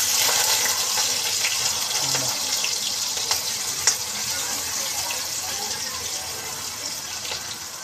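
Grated coconut and chopped onion fry in a pan with a steady, broad, close sizzling hiss that holds evenly throughout, with a few faint clicks underneath.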